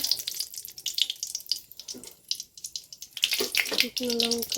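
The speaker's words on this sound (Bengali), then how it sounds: "যে কড়াইতে তেল দিয়ে দিয়েছি, যে এখন শুকনো লঙ্কা" Dried red chilies and garlic frying in oil in a kadai, a steady close sizzle with crackles, joined by a voice talking toward the end.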